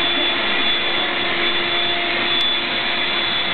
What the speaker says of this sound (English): This is Thomas's vacuuming like a little pussy